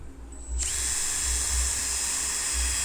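A Makita TD172D impact driver in assist mode 4 drives an ordinary light-steel screw into plate steel about 2.5 mm thick, a loud, steady, close high whir that starts abruptly and runs on without talk.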